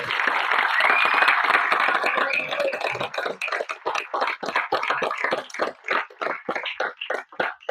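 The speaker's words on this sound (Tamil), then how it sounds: "கைத்தட்டு பத்தாது" Audience at an award ceremony applauds loudly, a dense wash of clapping that thins into scattered, separate claps toward the end.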